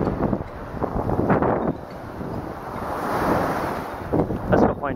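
Waves wash ashore on a Caribbean beach in swelling, rushing surges, with heavy wind buffeting the microphone throughout.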